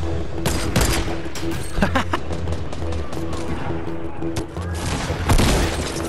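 Fortnite video game gunfire, with rapid bursts of shots and booming blasts crackling through a busy, loud mix of in-game noise, while players talk over it.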